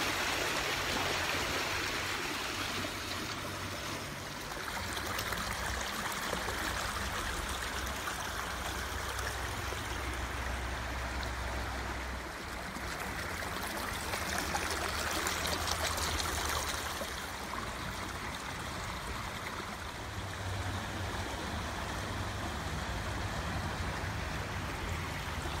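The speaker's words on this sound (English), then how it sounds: "can't get enough of this river right now." A river flows in a steady, rushing babble with trickling water sounds, continuous and fairly close, with no talking.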